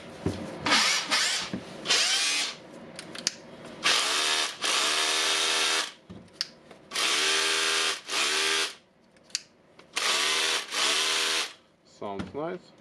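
A repaired cordless Makita DHR202 rotary hammer drill runs on a fully charged battery in several loud, close bursts of whirring motor, each lasting a second or two, separated by short pauses.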